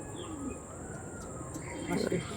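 Kalshira pigeons coo softly in low throaty rolls close by, with a few faint chirps mixed over a steady background hum.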